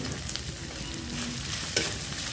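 Ginger paste frying with browned onion in a pan for Punjabi-style rajma, giving a steady, close hiss of sizzling oil with a soft stir and one sharp scrape near the end.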